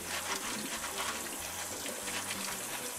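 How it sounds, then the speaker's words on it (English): Tap water runs steadily into a sink while pinto beans are rinsed, a constant soft splashing rush that stays even and fairly quiet for the whole stretch, with no talking. "Okay, so let's get our pinto beans rinsed out."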